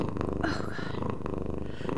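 Cat purring in the video game Before Your Eyes, a soft continuous rumbling purr under game music and speech.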